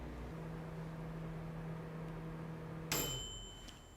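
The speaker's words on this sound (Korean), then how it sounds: "맞춰둔 시간이 지나면 전자레인지에서 소리가 날 텐데 그때 확인하면 된답니다." A microwave oven heating egg bread in paper cups hums steadily, then stops abruptly with a sharp electronic beep as its three-minute timer ends, leaving a fading quiet hiss afterward.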